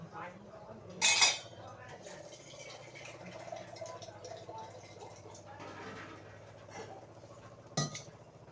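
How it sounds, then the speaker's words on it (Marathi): A metal cooking pot set down in a home kitchen before making kheer, giving one brief bright clink early on and a lighter knock near the end, with a voice talking quietly underneath. "पातेली टाकते"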